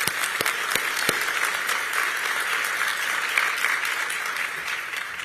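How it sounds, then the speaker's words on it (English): Sustained audience applause at a county oath of office ceremony, a dense steady wash of many hands clapping from a sizable crowd, continuous and fairly loud throughout with a few sharper nearby claps standing out. "Please give them another round of applause."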